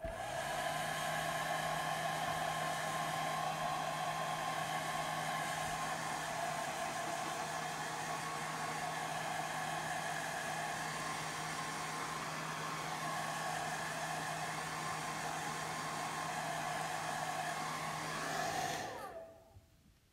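A hair dryer runs continuously, drying Sculpt-Gel special effects makeup on a face: a steady, loud whirring blow with a low motor hum that holds evenly, then cuts off abruptly near the end.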